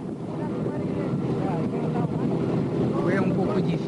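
A snowmobile engine drones steadily while being ridden in Antarctica, with wind buffeting the microphone and someone speaking over the rumble.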